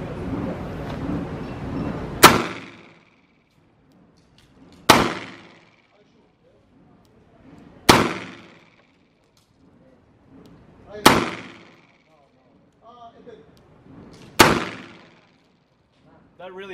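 Five sharp, loud pistol shots from a Rock Island Armory 1911 fired left-handed, evenly spaced about three seconds apart, each a hard crack with a short ringing tail, with quiet gaps and faint talk before the first shot.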